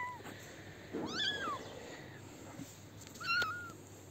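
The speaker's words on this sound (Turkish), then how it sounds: "Ne güzel kedilermiş bunlar" Several cats meow on a street, with two clear, close calls spaced a couple of seconds apart over steady background noise.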